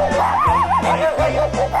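A dog barks and whimpers up close, short yips alternating with wavering whines in a quick, agitated sequence, with a faint human voice mixed in.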